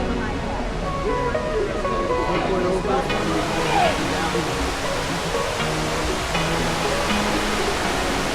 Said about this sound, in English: Dunn's River Falls.